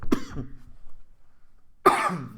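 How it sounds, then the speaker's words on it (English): Two separate coughs or throat-clearing bursts, one near the start and another after a second and a half of quiet; close and fairly loud. "Sorry about my cough."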